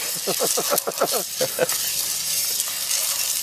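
Coffee beans being hand-stirred in a pan while roasting, giving a loud dry rattling, scraping hiss in quick rhythmic strokes that fade into steady sizzle, with a voice speaking over the first half.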